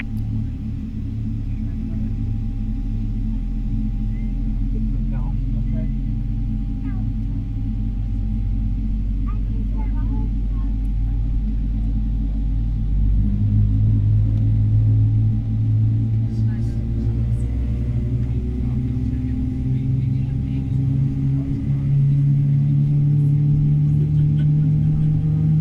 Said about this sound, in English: Engine number 1 to start, and I'll let you listen to this one as well.